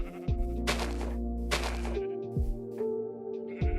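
Several sheep bleats from a Minecraft world, repeated wavering cries spread through the stretch, fairly close and clear over a steady low game-ambience drone, with no talking.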